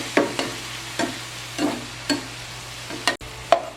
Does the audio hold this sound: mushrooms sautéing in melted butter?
yes